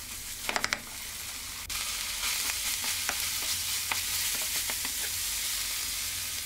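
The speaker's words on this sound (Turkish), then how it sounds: "doğramış olduğum soğanı da ekleyip soğanla birlikte kıymamı güzelce kavuruyorum" Minced meat and chopped onion sizzle steadily in olive oil in a pan, a constant close frying hiss with occasional clinks and scrapes of stirring.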